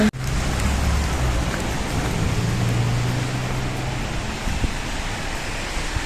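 Steady rain falls outdoors on a cool day, making a dense, continuous hiss at moderate loudness with no talking.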